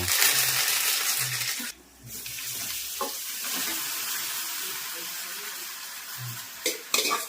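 Sesame seeds and curry leaves dropped into hot oil for tempering while cooking khatiya dhokla, giving a loud steady sizzle and crackle that briefly dips, then continues with stirring clinks; voices talk over it.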